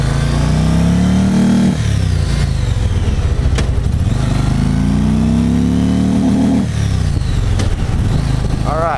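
Triple C motorcycle engine revving hard, loud and close, climbing in pitch through repeated gear pulls with brief dips between surges.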